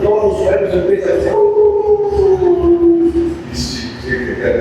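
A voice imitates dogs howling as an ambulance passes, with long wavering howls that slide slowly downward, loud and close.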